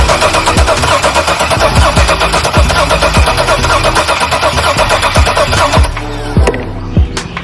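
An LS 6.0 V8 cranking on the starter during a wet compression test, loud and close: a fast, steady chugging whir with regular compression pulses that keeps grinding for several seconds before easing off.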